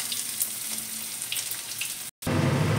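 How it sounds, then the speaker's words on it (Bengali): Chopped garlic and ginger sizzle steadily in hot oil in a pan, a close, continuous crackling hiss that cuts out for a split second before resuming louder. "রসুনটা ভাজা হবে কিছুক্ষণ"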